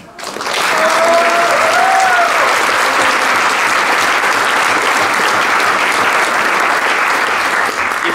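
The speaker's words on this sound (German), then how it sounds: "Bitte einen Applaus für die Jungmusikanten Ben Scheidecker, Mirko Avisati, Rosalba Dellbach und Joel Jeppel." A concert audience at a village music society's annual concert applauds young band musicians, with loud, sustained clapping filling the hall and a faint tone briefly audible at the start.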